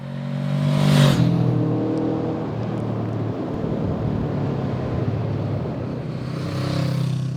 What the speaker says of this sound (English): you have to work the engine, and you have to rev it hard.